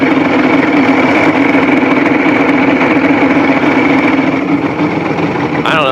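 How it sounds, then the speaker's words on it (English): Mercury two-stroke V6 outboard engine idling steadily with the reservoir cap off, a loud continuous drone with a strong steady hum throughout, ending in a brief shift in pitch. "They said just let it idle with the cap unscrewed on the reservoir on the engine."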